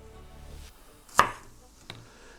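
A knife trims a spring onion on a board with one sharp, clear chop followed by a softer second cut, set against a quiet background with no talking.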